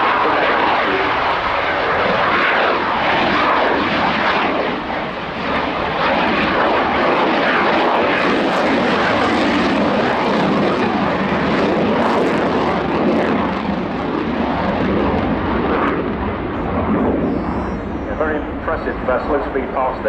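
A Saab Gripen jet fighter makes a slow display pass at an airshow, a loud, sustained broadband engine roar that fills the air for the whole stretch, with a commentator talking over it.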